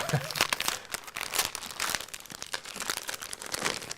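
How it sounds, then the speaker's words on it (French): Gift wrapping paper is crinkled and torn in quick, irregular rips and rustles, close and fairly loud, with no talking. "je vais déchirer le papier cadeau"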